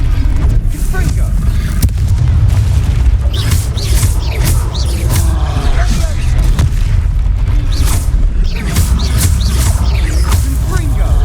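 The Confringo fire spell exploding in combat in Hogwarts Legacy, a video game: loud booming blasts over continuous battle noise, with voices speaking throughout.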